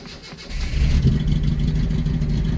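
A 1974 Honda Civic Mk1 engine cranks and catches, settling into a steady, smooth-running idle with a low rumble that stays close and loud through the rest of the moment.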